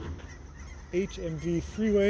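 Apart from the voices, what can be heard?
geese honking while flying overhead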